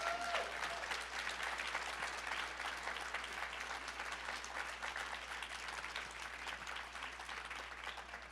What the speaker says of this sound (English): I want to hear a huge round of applause for these 3 leaders.